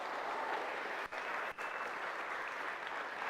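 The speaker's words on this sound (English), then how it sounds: "ask for a special round of applause for Jenna" Church congregation applauding at an Anniversary Sunday service, a steady dense clapping that fills the room and holds at an even level, with two very brief dips in the middle.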